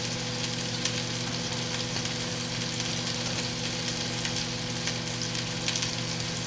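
Steaks fry in a hot pan with a steady, dense sizzle and occasional crackles, close and even throughout, with no voices.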